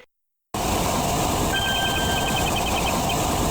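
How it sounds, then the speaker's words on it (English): A monster spewing fire as heard on a tape recording in the video game Ace Attorney Investigations 2: a sudden loud, continuous roaring rush with a thin tonal whine, starting abruptly after brief silence. "It's the sound of Mozilla spewing out fire."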